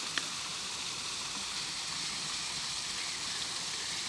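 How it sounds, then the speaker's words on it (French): Steady rain falling in a park by a pond, a continuous soft hiss of drops on surfaces that stays even and fairly quiet throughout, with no voices. "Il pleut."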